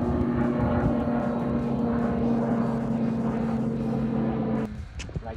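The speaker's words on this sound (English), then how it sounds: "You'll just see a drone plane, a big ass drone plane just go like really low" A large drone plane cruises low overhead at El Mirage dry lake, a steady droning engine with a sustained hum that holds loud and even before cutting off abruptly near the end.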